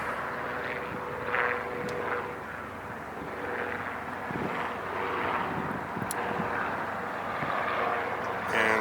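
A Southwest airliner arriving from Chicago at Long Beach airport: a steady, fairly distant jet roar spread evenly across the whole stretch, with gusty wind buffeting the microphone and no voices.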